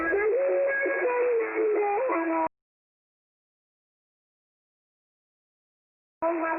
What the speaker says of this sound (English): Sounds like this guy is giving them a dose of reggae.